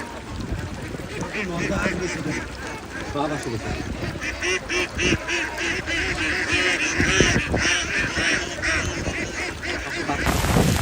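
Ducks quacking in a rural wetland setting, a busy, continuous chorus of overlapping calls close by, with people talking in the background and steady outdoor noise throughout.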